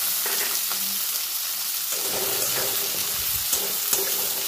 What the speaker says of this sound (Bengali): এবার এর মধ্যে লম্বা টুকরো করে কেটে রাখা আলুটা আমি অ্যাড করে দেব।